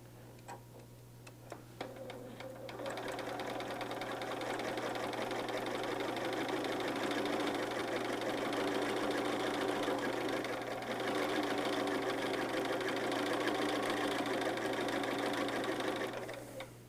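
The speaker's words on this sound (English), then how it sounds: "I'm just going to sew all 8 of these." A sewing machine runs steadily for about fourteen seconds, stitching curved paper-pieced quilt units, its fast mechanical ticking hum close and loud after a few quiet handling clicks, then stopping near the end.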